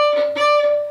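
A violin held on one sustained note with uneven beginner bowing: the tone swells and scratches at each of several rough bow changes within about a second, played alone.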